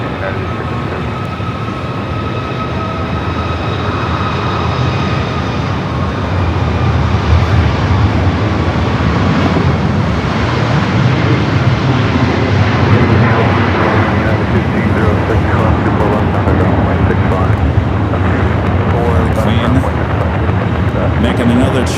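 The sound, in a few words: airliner taking off at Los Angeles LAX airport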